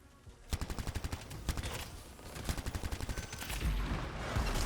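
Rapid bursts of machine pistol fire in the sci-fi shooter Anthem, with two quick strings of sharp, evenly spaced shots, then heavier, denser blasts and rumbling impacts.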